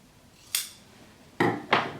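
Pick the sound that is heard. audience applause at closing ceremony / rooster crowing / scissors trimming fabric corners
scissors trimming fabric corners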